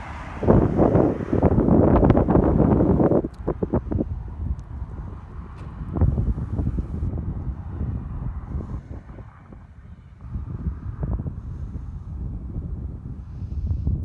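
Strong gusts buffet the microphone with a heavy, rumbling roar that is loudest at first, then settles into a steadier blustery wind.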